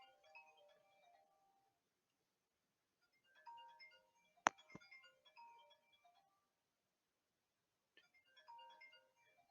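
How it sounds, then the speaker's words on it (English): A mobile phone ringtone chimes in short melodic bursts separated by silence, faint and thin in an otherwise quiet room, with a sharp knock partway through. "Oh, that's my phone."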